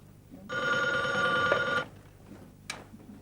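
A telephone rings once in a single sustained bell tone lasting over a second, moderately loud in a quiet room, followed by a faint click.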